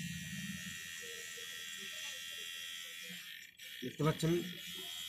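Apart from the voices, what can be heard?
repaired electric trimmer running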